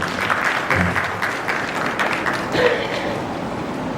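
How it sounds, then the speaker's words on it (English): Audience applause in a hall at the inaugural function of a marine fisheries research institute conference in Kochi, a moderate continuous patter of clapping lasting the whole stretch with faint crowd murmur beneath. "A big round of applause for this member."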